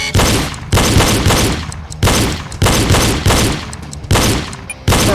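Pistol shots during a reload drill, five loud, sharp reports in a steady rhythm with brief reverberant tails, close to the listener.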